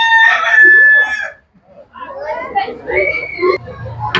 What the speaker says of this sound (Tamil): இதில் வேறங்க பெரிய கோழி ஒன்று கூவி கொண்டிருக்கு